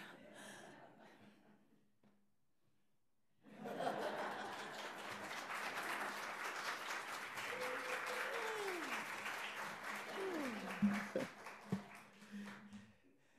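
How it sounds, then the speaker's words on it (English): Studio audience applauding as three guests are thanked, a broad sustained patter of clapping that starts abruptly and fills the room, with a few brief voices and laughs mixed in near the end. "Let's give all three a round of applause."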